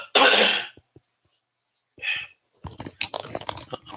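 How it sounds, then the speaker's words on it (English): A single harsh cough bursts out close by, followed by a short throat-clearing rasp, a pause, then soft mouth noises. "I'm really sorry, I got a little cough."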